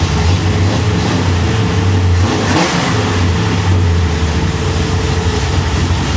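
A 1966 Chevrolet Impala engine running loud and close, with a steady rumbling idle that rises briefly in a rev midway before settling back, with no talking over it.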